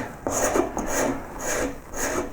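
A hand scraper works over a wooden koi carving to clear rasp marks, producing four rhythmic, close, dry scraping strokes with short pauses between them.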